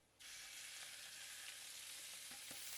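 Minced beef hits a hot wok with fried garlic and erupts into a loud, steady broadband sizzle, with a few faint clicks of stirring near the end.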